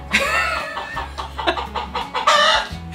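A hen kept at home clucks close by in a short, lively series of repeated calls with no one speaking.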